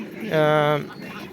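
Chickens and roosters on a poultry farm, with one drawn-out, tonal bird call rising loud and close for about half a second over a steady background murmur.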